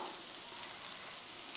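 An egg frying in a pan for egg fried rice gives a soft, steady sizzle, faint and continuous with a few small crackles, no voices.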